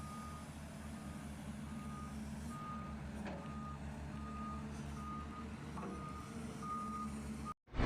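Reversing beeps from a dredging excavator, a faint, steady, evenly spaced tone over low engine rumble, ending with a brief click.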